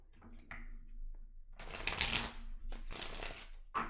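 Tarot cards are shuffled close by in a soft, quiet riffle that swells into a dense flurry of papery flutters, then brief taps as the deck settles.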